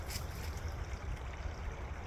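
The San Antonio River burbles softly along the Riverwalk near a low water crossing, a steady low watery rush that stays quiet and continuous with no talk over it.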